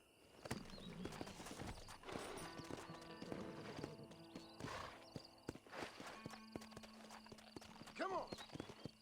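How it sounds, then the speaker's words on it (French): Horse hooves clip-clopping in a steady walking rhythm in the video game Red Dead Redemption, close and clear, with a whinny near the end and someone talking over it. "Non, on va aller avec le cheval."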